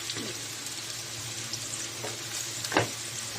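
Garlic sautéing in a frying pan for ginisang repolyo, a steady close sizzle with a few scraping stirs, no talking.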